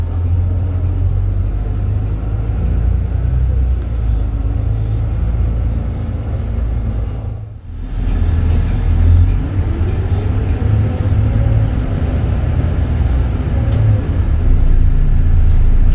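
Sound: Volvo B8RLE Bustech VST bus interior while departing

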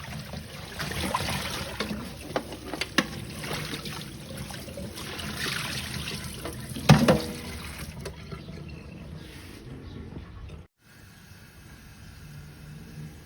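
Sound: washing food in water

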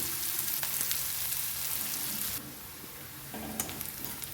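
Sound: chopped onions sautéing in a pan

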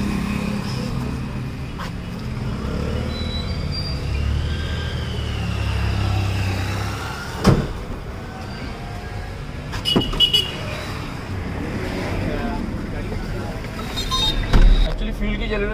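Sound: car driving on a test ride, automatic car with CNG kit

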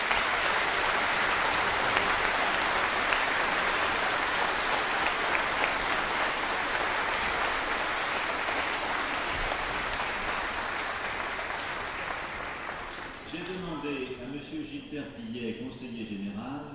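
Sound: audience applauding the orchestra and its conductor

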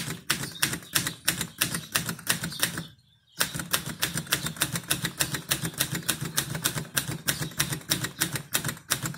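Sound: typing keys on Antares Parva portable typewriter

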